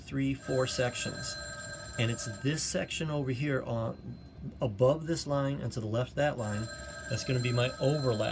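A telephone rings repeatedly in the background while a man explains a math problem over it, the bell's bright trill returning in short bursts beneath his steady talk.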